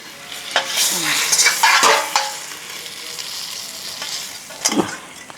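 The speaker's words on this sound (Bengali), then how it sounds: "এই যে মাছটা আমরা সুন্দর কড়া করে ভেজে নিলাম" Pomfret fish frying crisp in a pan of oil for a Bengali curry: close, loud sizzling with bursts of crackle and several scraping spatula strokes against the pan.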